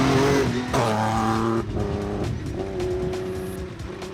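A BMW race car in Super Modified 3 at a hill climb corners hard, engine loud and revving with rising and falling harmonics, tires scrubbing as the back end slides through the turn.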